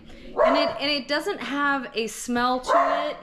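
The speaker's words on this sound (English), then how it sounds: "you can probably hear my dogs barking" Someone talks steadily while dogs bark and yip in the background, several sharp barks mixed in under her voice.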